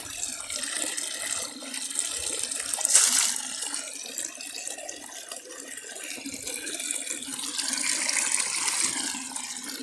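Steady rushing spring water pours continuously, a bright splashing flow with a brief louder gush partway through, heard up close with no voices.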